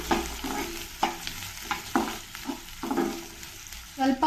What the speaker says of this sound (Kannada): ಉದ್ದಕ್ಕೆ ಕಟ್ ಮಾಡಿರೋಂತಹ ಎರಡು ಈರುಳ್ಳಿ ಸೇರಿಸ್ತಾ ಇದ್ದೀನಿ